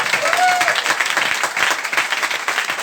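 An audience clapping during a talk, dense sustained applause filling the whole stretch at a fairly loud level, with a voice briefly heard over the start.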